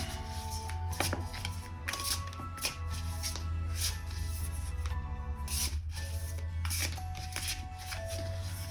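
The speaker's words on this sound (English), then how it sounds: "This is a beautiful deck to actually just shuffle." Continuous riffling and shuffling of a tarot card deck, steady crisp flutters with periodic sharper bursts, close up, no voices.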